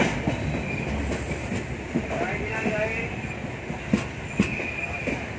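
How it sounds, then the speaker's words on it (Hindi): An Indian passenger train running from Jalandhar toward Pathankot rumbles steadily on the rails, heard from inside with continuous wheel noise, light clickety-clack and occasional knocks. "अब यहां से ट्रेन छूटेगी सीधा पठानकोट।"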